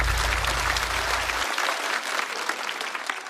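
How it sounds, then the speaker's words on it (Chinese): Studio audience at a Chinese stand-up comedy show bursts into sustained applause, dense clapping throughout with a crowd roar, no talking. "掌声送给张俊。"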